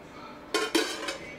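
A cooking pot and a small spoon knock together in a kitchen, giving three quick metallic clinks in a row, close and fairly soft against a quiet room.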